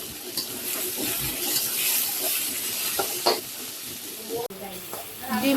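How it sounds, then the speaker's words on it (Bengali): Onions sizzle and fry steadily in a hot pan, with occasional scraping stirs and a brief pause near the end, loud and close. "আর পেঁয়াজগুলোকে ভালোভাবে ভেজে নিব"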